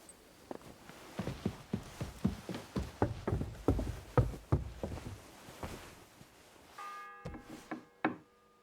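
A church bell tolls in the medieval video game Kingdom Come: Deliverance 2, a run of resonant strikes that fade away, followed by a few clear ringing tones near the end.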